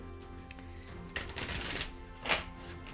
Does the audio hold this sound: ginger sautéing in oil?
no